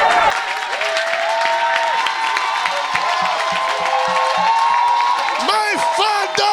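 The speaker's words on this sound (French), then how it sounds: "Donnez encore une acclamation à Jésus" A church congregation at a French-speaking Sunday service cheers and applauds for Jesus, sustained clapping and whoops filling the room while a voice carries over the crowd noise.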